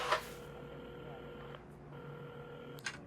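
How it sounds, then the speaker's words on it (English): A telephone being dialed in the video game Assemble with Care: steady electronic tones hum at a moderate level, with a brief click at the start and another near the end. "at the counter, Carmen had started dialing the phone"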